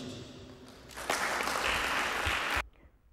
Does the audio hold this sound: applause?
yes